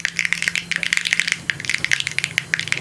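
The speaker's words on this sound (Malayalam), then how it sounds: "കടുക് ഇനി ഒന്ന് പൊട്ടി വരട്ടെ." Mustard seeds crackle and pop in hot oil for a Kerala bitter gourd puli inji curry: a dense, rapid, irregular run of sharp little pops, close and steady throughout, with no talking.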